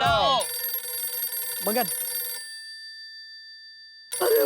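A landline telephone ringing in an office during a workers' protest in a sitcom scene, heard as sustained electronic ring tones through the middle of the clip, with a brief spoken word before and voices at the start and end.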